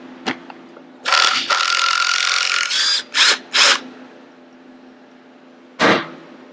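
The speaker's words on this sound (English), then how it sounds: "So now we're going to get this flywheel off next." Tools at work on a KTM 300 two-stroke engine's flywheel during a bottom-end rebuild: a loud, sharp burst of ratcheting or power-tool whirring, then two short bursts and a final one after a pause, with no talking.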